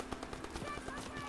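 A light machine gun in Call of Duty: WWII fires a fast, rapid burst of shots. The sound is quiet and distant-sounding under faint voices.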